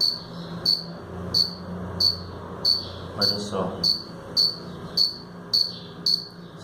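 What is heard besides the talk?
cricket chirping by rubbing its wings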